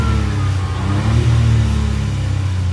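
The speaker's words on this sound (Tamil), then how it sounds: "நம்ம த்ராட்டில் கொடுத்து பார்ப்போம் உங்களுக்கு எக்ஸாஸ்ட் நோட் எப்படி இருக்குன்னு" A Hyundai i20 N-line exhaust rumbles as the throttle is blipped, a loud, close, low droning engine note that swells briefly in pitch and settles back, with no talk over it.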